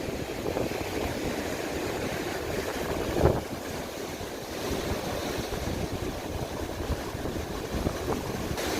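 Ocean waves wash and break over rocks along the Welsh coast, a steady, moderately distant surf roar mixed with wind buffeting the microphone throughout.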